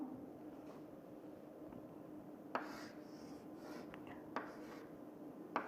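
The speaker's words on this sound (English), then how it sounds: "so I will just write it here" Marker or chalk scratching across a board while a formula is written out, with faint continuous rubbing over a steady low hum and a few sharp taps, fairly quiet and close.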